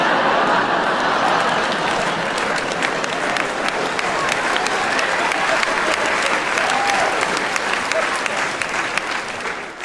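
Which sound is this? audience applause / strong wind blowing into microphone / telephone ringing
audience applause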